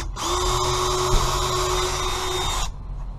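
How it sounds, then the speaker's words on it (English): A power drill bores pilot holes into wood for a DIY computer monitor stand, running in one loud, steady burst of about two and a half seconds, close up and alone. "Now it's a good idea to pre-drill all your holes to prevent splitting."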